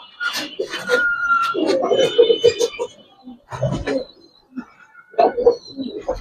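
Giribaz pigeons in a loft give soft, throaty coos in several bursts, close by, while people talk over and between them.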